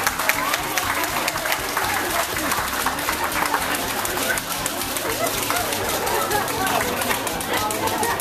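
An audience claps steadily throughout at a Chinese talent show, a dense continuous patter of many hands with a murmur of voices beneath.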